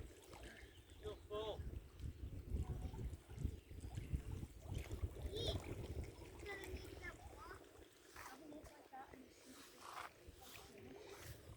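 Outdoor ambience at Crosby Marina sailing club in Waterloo, Liverpool, on a summer day: steady wind noise on the microphone and lapping water with scattered distant activity, with people talking faintly in the background throughout.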